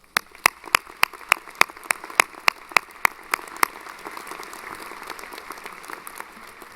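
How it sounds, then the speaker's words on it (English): A small cluster of sharp, evenly spaced claps rings out for the event planners at a university presidential investiture ceremony, then thins into a low murmur of room noise. "I'd like to ask you to join me in giving them a round of applause"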